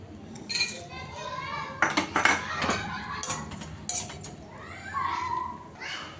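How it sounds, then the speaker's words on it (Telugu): Dry fruits fry in ghee in a pan while a spoon clinks and scrapes against the metal in irregular bursts, with faint kitchen background and some brief voices. "స్పూన్ నెయ్యి వేసుకుని డ్రై ఫ్రూట్స్ని వేయించుకోవాలి"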